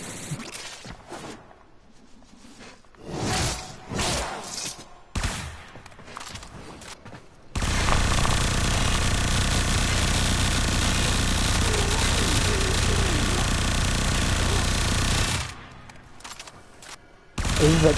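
Supra Vandal from Warframe firing in a long, dense continuous burst at minigun-like speed, loud and unbroken for about eight seconds, preceded by scattered shorter shots and movement sounds.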